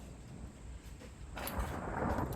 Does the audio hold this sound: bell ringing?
no